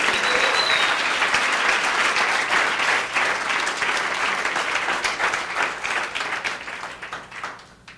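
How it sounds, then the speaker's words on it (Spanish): A church congregation breaks into loud, dense applause for several seconds, the clapping thinning and fading out toward the end with no talking over it. "¿Cuántos le dan un fuerte aplauso al Rey?"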